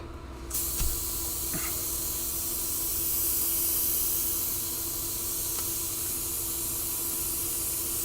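Clear coat sprays onto an ammo box lid, a steady close hiss that starts after a brief click and runs continuously for several seconds with no talking.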